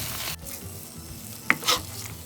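Plain cooked rice stirred and mixed in a pan over low heat for hariyali pulao, with soft scraping sweeps and a light sizzle, close by with a couple of sharper clicks.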